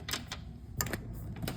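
A door lock being twisted open gives a few quick, dry mechanical clicks in small clusters, close by and fairly quiet, with no voices.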